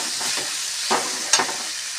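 Peas and mixed vegetables with spices are stirred in a hot pan, giving a constant close sizzle broken by a few sharp scraping strokes of the spoon, with no talk.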